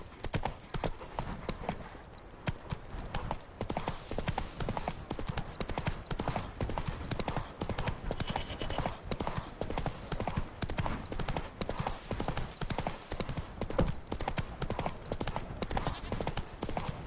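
Horse hooves clip-clopping at a steady trot in The Witcher 3: Wild Hunt, a continuous rhythmic patter of close, loud hoofbeats with faint game ambience.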